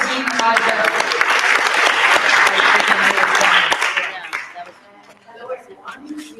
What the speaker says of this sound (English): let's have a round of applause for team modular.